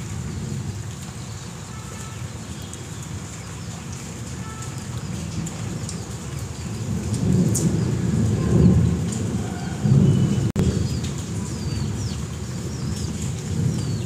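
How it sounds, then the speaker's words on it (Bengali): Heavy thunder rolls through a rainstorm in West Bengal, a continuous low rumble over steady rain that swells louder around the middle and ends in a sharp, close crack. "অনবরত আজকে বাজ পড়ে চলেছে,"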